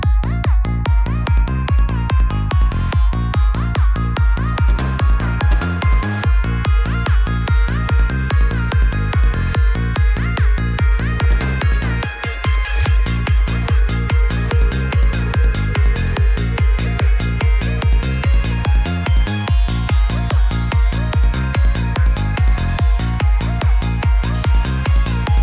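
Electronic remix playing steadily at full level for about 25 seconds, with punchy four-on-the-floor kicks, dense synth layers, delay tails and volume automation, briefly dipping near the middle before the groove resumes.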